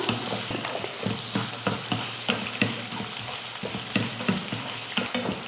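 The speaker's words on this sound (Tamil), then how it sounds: "ஒரு வெங்காயம், ஒரு பச்சை மிளகாய், இதையும் வதக்கிடலாம்" Onion and green chilli being sautéed in a pan, a steady sizzle with repeated scraping stirs of a spatula at a fairly regular rhythm, close and clear with no talking.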